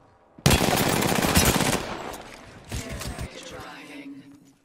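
Gunfire in Apex Legends Arenas: a sudden burst of rapid automatic shots, close and loud for over a second, then scattered further shots and game effects trailing off.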